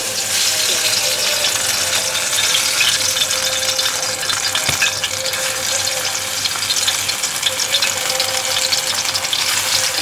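Prawn and lentil chops dropped into hot oil, frying with a loud, dense, continuous sizzle and bubbling that stays steady and close throughout, no voices.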